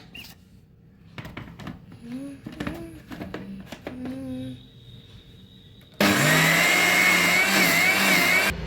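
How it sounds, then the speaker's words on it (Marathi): An electric mixer grinder starts up and roars steadily at high speed, grinding soaked ingredients for a gulab jamun recipe, after a stretch of quieter handling sounds and faint talk. "झाकण लावून मिक्सरला लावून घेऊया।"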